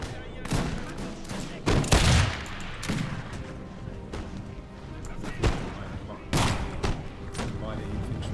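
Skirmishers fire muskets in a Napoleon Total War online battle. Ragged volleys and scattered shots crack out in irregular bursts, some loud and close, others fainter, over a constant battlefield rumble.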